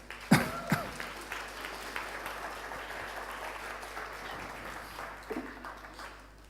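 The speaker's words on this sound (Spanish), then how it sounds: "Dele un aplauso a Jesús por ello." A church congregation applauds, starting with a few sharp nearby claps and settling into a faint, distant spread of clapping across a large hall, with a brief voice near the end.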